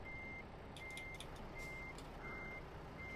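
Reversing beeps from a truck in Euro Truck Simulator 2, stuck in reverse, sound as a steady repeating series of five even high-pitched tones over a constant engine and road drone, with faint clicks between them.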